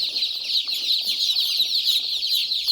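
A flock of chicks peeps continuously in high, overlapping chirps, a dense busy chorus that stays close and fairly loud throughout.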